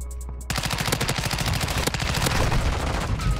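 Rapid automatic gunfire from a Chimera rifle in the video game Modern Warfare II, a loud continuous burst of fast shots that starts after a brief quiet moment and keeps going to the end.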